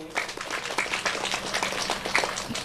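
Applause from a gathering of sugarcane partner farmers at a religious prayer event, steady crowd clapping at moderate level throughout with faint background voices.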